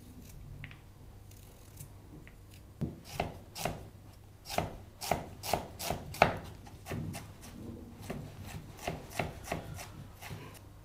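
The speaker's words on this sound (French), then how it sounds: "On coupe le chou chinois, puis on l'émince en fines lamelles. On épluche et on hache le gingembre." A knife chopping Chinese cabbage and ginger on a cutting board, a run of close, crisp, quick cuts in irregular bursts, quiet at the start and busier mid-way, with no speech.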